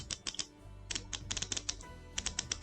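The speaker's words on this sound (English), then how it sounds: "let me check the bezel action for you. You can hear it. Real nice, distinct clicks." The bezel of a 300m diver watch with a vintage look is rotated, giving a quick series of crisp, distinct clicks in uneven bursts, close and quiet without talk.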